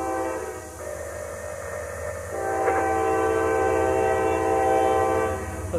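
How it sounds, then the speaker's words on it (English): A slow hazardous chemical freight train carrying ethanol rumbles past close by in Folkston, with a loud sustained horn tone layered over the heavy rolling drone of the cars. "Put it this way, it's a hazardous chemical train."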